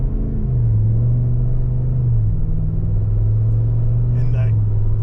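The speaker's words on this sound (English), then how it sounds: "And that performance catback exhaust sounding really, really good." A 2024 Chevrolet Tahoe RST with a performance catback exhaust pulls away from a stop, its engine a loud, deep rumbling drone that shifts pitch as it accelerates, heard from inside the vehicle.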